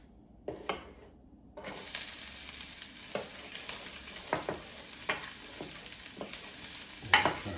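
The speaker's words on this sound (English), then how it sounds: "I'm just going to add my onions in right quick" Chopped onions go into hot leftover meat oil for breakfast burritos: after a brief clatter, a steady close sizzle starts and continues, broken by repeated scraping stirs and a sharper metallic knock near the end, with no speech.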